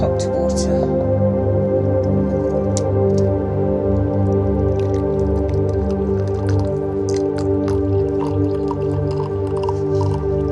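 Hot water pours steadily into a glass holding a gelatin capsule, a continuous liquid trickle with a few dripping splashes, loud and close.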